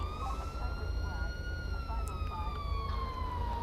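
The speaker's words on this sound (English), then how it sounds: "I can hear some more sirens" A wailing ambulance siren in a video game sweeps steadily throughout, with harmonic tones gliding slowly downward over a constant rumbling engine drone and faint background chatter.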